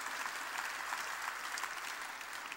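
A church congregation applauds together, a steady dense wash of clapping that holds evenly at moderate level for the whole stretch with no voices over it.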